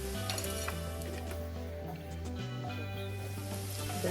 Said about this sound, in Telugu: ఇప్పుడు ధనియాలు కొంచెం వేయించుకున్నాము.